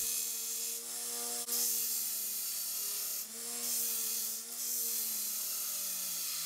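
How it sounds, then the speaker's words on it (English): Steady abrasive whine of a grinder shaping a forged lawnmower blade into a bushcraft knife, running continuously with a few brief dips where the steel is lifted off and pressed back. "Now I'm gonna start grinding to get the shape."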